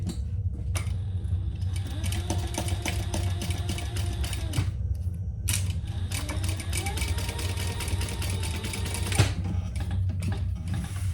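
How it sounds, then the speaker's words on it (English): A sewing machine basting the side seams of a crossbody bag, a fast, even mechanical rattle of stitching in runs, broken by brief pauses and clicks. "I'm just gonna baste down each side, 1/8 of an inch"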